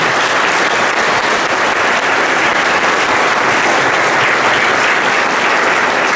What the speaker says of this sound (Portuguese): Acolhamos-nos com uma grande salva de palmas de boas-vindas.